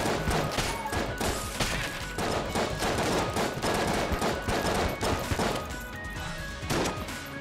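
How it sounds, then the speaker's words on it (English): Sustained video-game gunfire from an infinite-ammo weapon in Enter the Gungeon, a dense run of rapid shots and crashing impacts that stays loud and steady throughout with no talking. "Fire the infinite weapon!"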